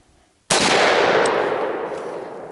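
A single sharp, loud gunshot fired at a small puddle on an outdoor shooting course, cracking abruptly after a short quiet and trailing off in a long, fading rumble.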